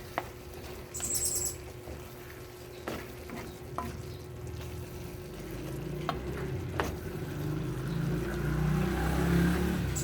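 Ground pork giniling frying in a pan, with a continuous soft sizzle and occasional sharp scrapes and taps of a spoon as it is stirred, while a low background hum runs steadily underneath.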